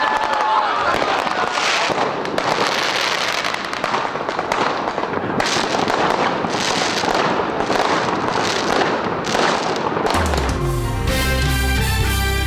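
Rapid crackling bursts and pops of fireworks go off in dense clusters, loud and continuous, ending with a low rumbling explosion.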